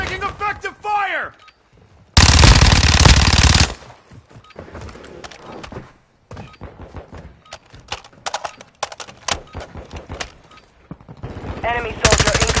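Sustained bursts of machine gun fire in the Modern Warfare video game, loud and dense, with a solid roar in the middle and rapid crackling shots that go on throughout, mixed with brief game voice callouts.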